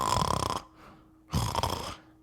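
A voice imitates a snoring passenger in a plane seat: two rasping, throaty snore sounds with a short gap between them, close and fairly loud.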